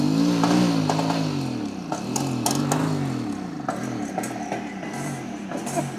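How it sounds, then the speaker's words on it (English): A Mobylette Cady moped engine, unused for 40 years, sputters and putters unevenly, catching and faltering with irregular revs and clicks, close by with no talking. "the moped is struggling to come back alive"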